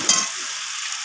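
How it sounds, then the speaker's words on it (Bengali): Onions frying in a pan, a brief, close, bright hiss of sizzling oil that holds steady throughout. "তো পেঁয়াজগুলো দেখুন এখানে ভাজা হয়ে এসেছে।"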